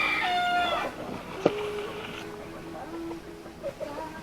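Chickens and a rooster on a free-range farm, with a few faint clucks and a brief crow rising early on, followed by scattered soft clucking at a moderate distance.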